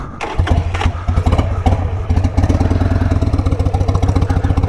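A Harley Sportster motorcycle engine, not yet warm, chugs close by with a loping, uneven beat that steadies into a rapid, regular pulse.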